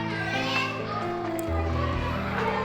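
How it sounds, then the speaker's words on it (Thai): Children playing and shouting loudly at a school before afternoon classes, a dense, continuous babble of many young voices nearby, with someone speaking over the noise. "เด็กๆกำลังจะเริ่มเรียนช่วงบ่ายแล้วนะคะ ก็เสียงดังกันมากแล้วนะคะตอนนี้"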